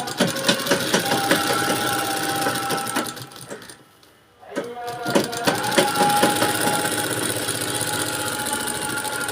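A sewing machine stitches along folded fabric in loud, rapid mechanical chatter, stopping briefly midway before running again.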